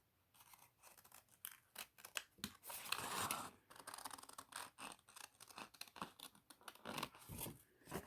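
Scissors snip through a sparkly Christmas ornament in a quick run of close, crisp cuts with rustling and scraping between them, fairly quiet, with no talking.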